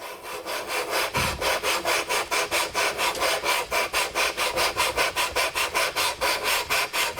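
A lapping bar coated with lapping paste is worked back and forth inside rifle scope rings, making a loud, close, gritty rasp in a fast, even rhythm of regular strokes with no talking.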